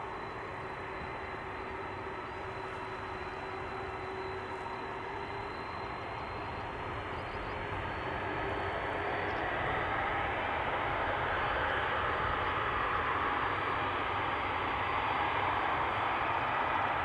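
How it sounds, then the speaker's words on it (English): Cathay Pacific Boeing 747 taking off from Schiphol's Polderbaan runway, a steady broad jet engine roar that holds constant and swells slightly louder toward the end, heard from a distance outdoors. "the Cathay 747 is going to Frankfurt"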